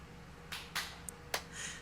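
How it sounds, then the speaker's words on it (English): A few sharp hand claps during an indoor hide-and-clap game in a house, spaced irregularly and fairly close, with a faint hiss between them and no talking. "Second clap"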